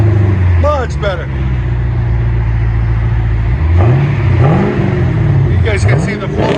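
A Chevy Camaro SS with a 6.2L V8 and Flowmaster Flow FX exhaust rumbles deep and steady, then swells through two or three rising revs near the end; voices talk over the engine throughout.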